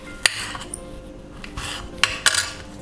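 A knife slicing green beans lengthwise into thin strips on a board, with a few sharp knocks of the blade against the board spaced irregularly over quiet kitchen background.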